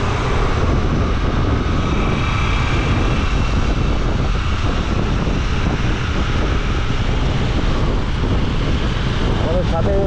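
Four motorcycles ride together on a road, heading from Kolkata to Bakkhali. A continuous loud engine roar is mixed with heavy wind rush on the microphone, and a voice talks briefly over it.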